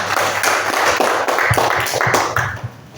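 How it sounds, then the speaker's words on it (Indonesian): A classroom full of students applauds together in a quick, dense burst of close hand claps, loud at first and then thinning toward the end. "Ya, tepuk tangan semua."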